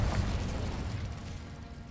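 Confringo spell explosion in Hogwarts Legacy, a dense, rumbling blast of low noise that slowly fades over a couple of seconds.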